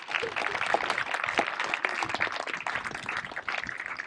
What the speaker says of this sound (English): One more round of applause for our music department.